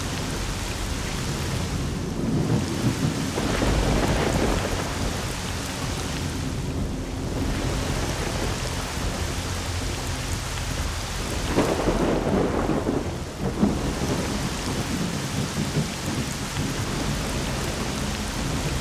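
Heavy thunderstorm in S.T.A.L.K.E.R.: Shadow of Chernobyl: dense, steady rain hisses throughout while several deep thunder rumbles swell and roll beneath it, with no voices.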